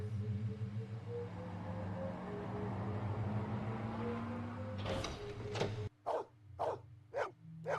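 A dog in the Blade Runner video game lets out a quick series of sharp barks near the end, following a long low mechanical drone and a brief rushing swell.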